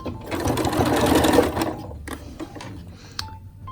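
A domestic sewing machine stitches a simple skirt in a fast whirring burst that slows and stops, followed by a few short mechanical clicks and taps nearby.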